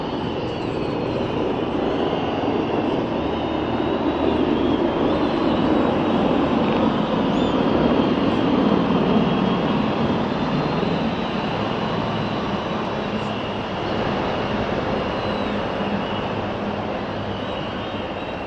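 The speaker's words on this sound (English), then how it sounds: "Helicopter formation" A South African Air Force helicopter formation flies over a presidential inauguration ceremony, a loud, continuous rumbling drone that builds slightly and then eases, with no talk.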